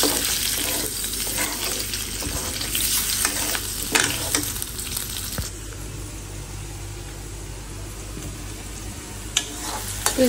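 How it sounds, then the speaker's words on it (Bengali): Onions frying in a pan, a loud close sizzle punctuated by repeated scraping strokes of a spoon, the hiss softening partway through and continuing steadily, no voices. "এখানে হলো পেঁয়াজটা ভাজতেছি"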